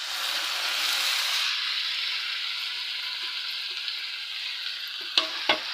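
Onions and tomatoes sizzle and fry steadily in a pan while a thokku of dried fish cooks, a continuous close hiss with light stirring, then two sharp utensil knocks near the end.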